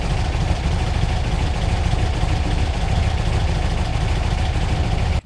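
A 1964 VW Beetle engine with dual EMPI carbs idles after a refire, a steady, loud, close rumble that holds even throughout and cuts off abruptly at the end.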